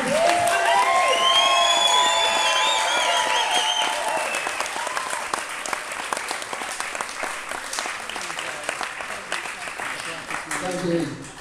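Wedding guests burst into loud applause and cheering for the groom at a reception, a dense sustained clapping with whoops and whistles at the start that gradually thins out, with voices mixed in.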